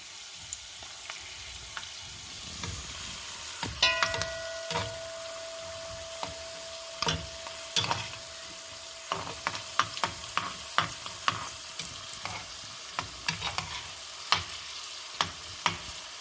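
Cashews and carrots frying over medium-low heat in a pan for fried rice, a soft sizzle under repeated sharp scrapes and taps of the stirring utensil.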